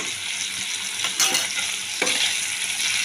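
Mustard paste goes into drumstick pieces sizzling in a pan for a mustard drumstick dish, making a steady close frying hiss broken by two sharp scraping stirs, with no talk.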